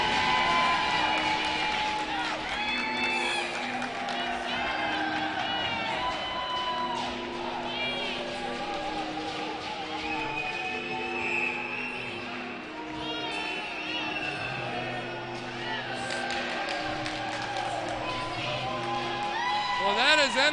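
Hockey arena crowd cheering and whooping after a hat-trick goal in a Cincinnati versus Dayton game, a dense sustained roar with shrill whistles and shouts, under continuous commentary.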